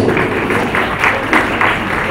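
An audience gives steady, loud applause at a Christmas celebration to welcome a college choir, with sustained dense clapping and no gaps.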